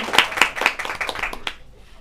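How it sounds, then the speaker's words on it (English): A single person claps at a steady pace, about eight crisp claps, then it fades out. "I can applaud a little bit more."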